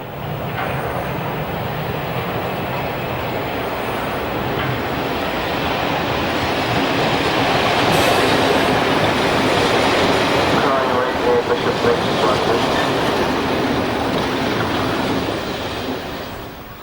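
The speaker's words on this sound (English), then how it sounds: "107 740 arriving at Larbert" A British Rail Class 107 diesel multiple unit arriving at Larbert station, a broad, steady rumble and rolling roar that swells slightly midway and eases toward the end, heard fairly close with no talk.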